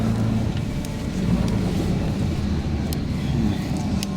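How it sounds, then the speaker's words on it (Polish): A car pulls out of a parking lot at night, its engine and tyre rumble steady and low with faint distant traffic hiss, no voices heard. "Pokażę wam jak się tu wyjeżdża z parkingu."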